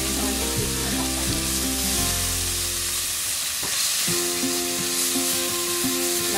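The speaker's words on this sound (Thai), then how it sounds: "คือทอดไปเรื่อยๆน้ำมันมันก็ออก" Bacon and eggs frying in oil in a pan, a dense, close crackling sizzle running throughout with repeated scraping stirs and utensil knocks, loud and continuous.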